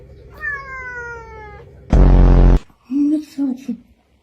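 A house cat meows a few times, with short vocal cries near the mic set apart by pauses, and a brief loud burst of noise falls between them.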